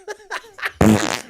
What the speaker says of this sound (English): Stop farting.